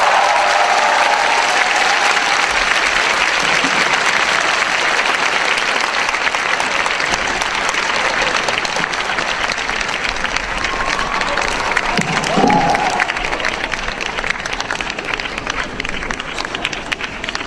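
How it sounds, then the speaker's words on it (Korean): A large audience applauds steadily and loudly throughout, a dense continuous wash of clapping with faint voices mixed in. "네, 다시 한번 큰 박수 부탁드립니다."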